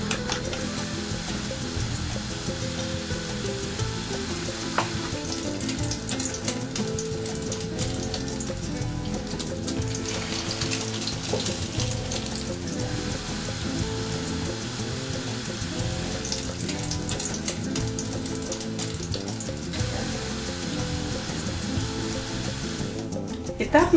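Eggs fry in olive oil in a pan in a home kitchen, giving a steady, continuous hiss and crackle that stays fairly even in loudness throughout.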